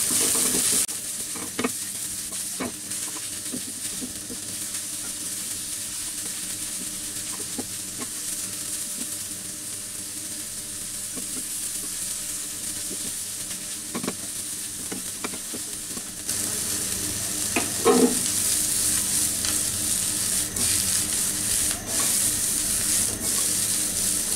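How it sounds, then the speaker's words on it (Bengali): Chopped spring onion and green chilli frying and being stirred in a pan for chicken fried rice, a steady sizzle with scraping stir strokes throughout, growing a little louder toward the end. "এইগুলাকে এখন আমি মিনিট খানেক ভেজে নিব।"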